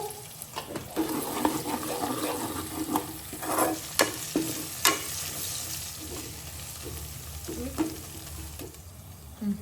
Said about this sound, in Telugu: అల్లం వేగింది పుదీనా వేసుకుందాం కొంచెం పసుపు